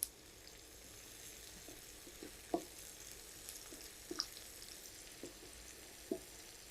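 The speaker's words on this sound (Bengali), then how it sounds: "আদা রসুনের পেস্ট একটু ভেজে নিয়েছি" Ginger garlic paste frying in a pan for an egg curry, a faint, steady low sizzle with a few soft clicks and stirring taps scattered through it.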